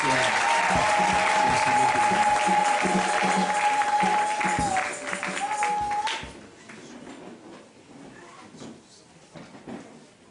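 Church congregation applauding and cheering in praise, dense clapping loud at first under a sustained tone, then thinning to scattered claps and crowd noise.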